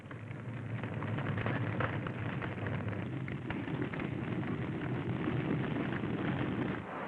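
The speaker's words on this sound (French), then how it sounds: "Feu de brousse dans l'Ituri." A bush fire burns across the Ituri region of the Belgian Congo, a steady, dense roar and crackle filling the air without pause, broadband and continuous like wind-driven flames.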